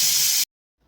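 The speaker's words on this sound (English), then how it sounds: "pull this off the heat, let out the steam, just let it out" A loud, close burst of steam hisses from a pressure canner used for canning chicken broth, then cuts off abruptly into near silence.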